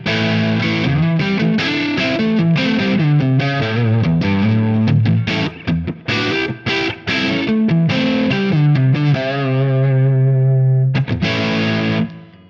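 An electric guitar played through the neck pickup into a Soldano SLO amp profile for Tonex rings out in distorted chords and single-note riffs, up close and alone, with short pauses and a final sustained chord.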